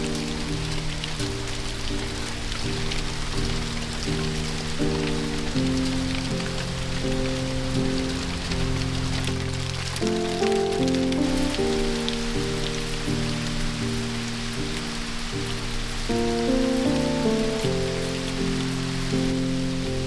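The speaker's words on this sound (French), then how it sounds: "Il pleut puis il fait soleil." Rain patters steadily onto a surface as a dense, even hiss that runs throughout, with gentle background music playing underneath and no voices.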